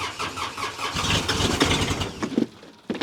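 A diesel engine cranking on a Hightop HT20 Pro mini excavator, a dense rumbling churn for a couple of seconds before it cuts out, close by.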